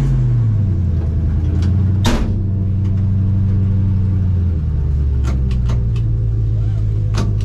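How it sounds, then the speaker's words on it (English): A Ford F100 pickup with a swapped engine drives along, its low engine rumble steady and loud throughout, with a brief knock or thump partway and some faint rattles over the drone. "we're gonna go for a little drive in the F100 Crown Hick"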